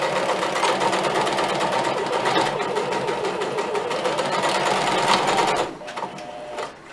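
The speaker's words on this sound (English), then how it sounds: "you take it to your sewing machine, basically just stitch" A sewing machine runs steadily, stitching with a fast mechanical rattle for several seconds, then slows and stops near the end.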